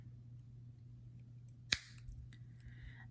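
Jewelry chain links for earrings are snipped with a single sharp metallic click of a cutting tool, up close, followed by faint small metal clinks. No talking over the quiet hum.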